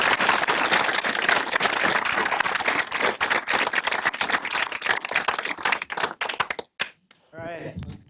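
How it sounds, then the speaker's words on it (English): Audience applause fills a talk venue at the close of a data storytelling presentation, dense sustained clapping from a crowd that thins out near the end, with a voice starting to speak afterward. "let's give RJ and Keith another round of applause"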